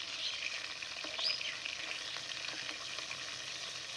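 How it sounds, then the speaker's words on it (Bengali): Fish fries in a pan with onions, a constant crackling sizzle with brief spits and pops, close and fairly quiet, with a few faint bird chirps in the background. "এখন শুধু ভাজছি, একদম পেঁয়াজ দিয়ে কষা কষা বানাবো।"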